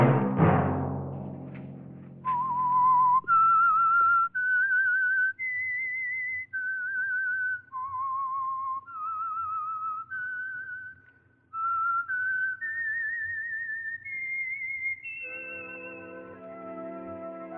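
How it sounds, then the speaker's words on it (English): A solo whistled melody, the theme signal of an old mystery radio program, plays as a series of clear sustained notes stepping up and down, with a brief pause midway and no talking. "Let that whistle be your signal for the Signal Oil program, The Whistler"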